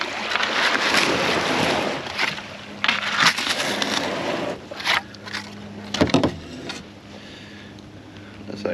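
Kayak paddled hard with the rudder raised near a Florida island shore, steady wash of water and wind noise with splashy paddle strokes and bumps, a few louder knocks near the end.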